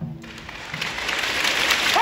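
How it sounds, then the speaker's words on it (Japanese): Applause from the audience at the opening event of a Kumamoto festival, rising after a brief quiet start and swelling steadily to a fuller, louder wash of clapping. "拍手"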